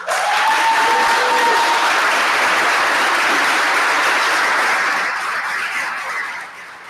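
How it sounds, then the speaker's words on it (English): An audience at a township committee meeting claps steadily for graduating seniors, dense sustained applause from a roomful of people that fades out toward the end. "I'd like to first give a round of applause to congratulate our graduates"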